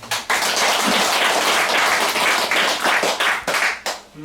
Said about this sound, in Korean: 한번 박수 한번 주세요.